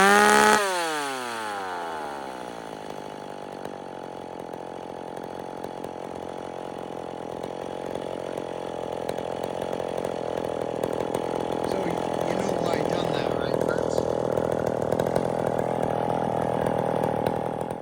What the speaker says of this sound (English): I'm just bucking this log now